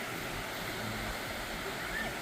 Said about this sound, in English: It's the biggest waves I've seen.